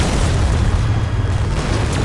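Torpedo explosions in the space combat video game Black Prophecy make a loud, dense rumbling boom that fills the whole brief moment without letup; no voices.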